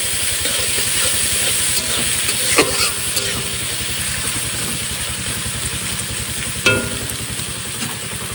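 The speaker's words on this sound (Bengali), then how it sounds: "এবার মশলাটাকে সুন্দর করে ফ্রাই করবো" A paste of onion, ginger, garlic and green chili sizzles steadily in hot oil aboard a small boat, a loud continuous frying hiss with a low engine-like drone beneath and an occasional stir.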